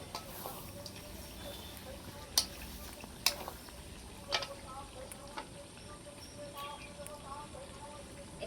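A spoon stirs freshly ground, dry-roasted garam masala into masala frying in a pan, giving a soft steady sizzle broken by several sharp clicks and taps of the spoon against the pan.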